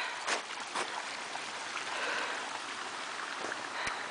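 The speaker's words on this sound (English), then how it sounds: "It's very quiet here, only the water you can hear." Steady broadband rush of flowing water from a forest stream running close by, with a few faint knocks and splashes and no talking.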